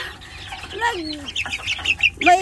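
A farm hen that has just laid an egg clucks and cackles in rising, drawn-out calls that grow busier toward the end, close and loud with a faint voice in the background.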